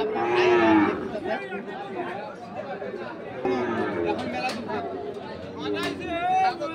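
Cattle, including Sahiwal bulls, low amid a busy crowd, with overlapping voices and bargaining chatter filling the background of a lively open-air livestock market.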